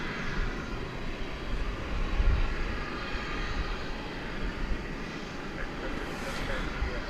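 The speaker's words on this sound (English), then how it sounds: "And looks like the UPS plane is headed over to runway 18 left" A UPS cargo plane taxis toward runway 18 left at Dallas/Fort Worth airport at night, making a steady low engine rumble that holds at moderate distance for the whole stretch.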